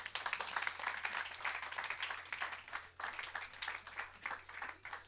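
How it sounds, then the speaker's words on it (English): Audience at an emerging leaders conference claps in sustained applause, a dense crackle of many hands heard from within the room, swelling and dipping for several seconds. "Give them a round of applause."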